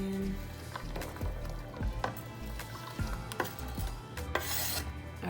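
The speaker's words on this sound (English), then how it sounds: "So I'm gonna add in my onions." Chopped onions stirred into a pot while making a mild seafood sauce, giving a close, uneven scraping and rustling with soft clicks of the spoon against the pot and a faint sizzle beneath.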